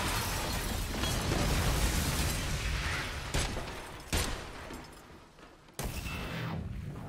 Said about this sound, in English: you just threw a grenade at yourself